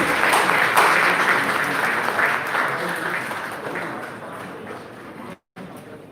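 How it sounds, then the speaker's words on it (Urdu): An audience at a school prize distribution ceremony applauding steadily, a dense wash of clapping that gradually fades before cutting off abruptly near the end. "آپ کی تالیوں کی گونج میں۔"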